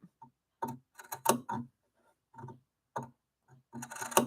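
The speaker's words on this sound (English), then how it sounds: "I'm just putting some snips almost up to the stitching line, but not through it" Scissors snip fabric close to the stitching line of a rag doll, with a series of short, crisp cuts coming in small irregular clusters in a quiet room.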